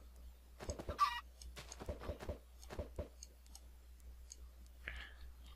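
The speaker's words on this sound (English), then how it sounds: "I need feathers. I'll get chickens." Chickens in Minecraft cluck in short, scattered bursts, with a couple of higher squawks, fairly close and quiet over a low steady hum.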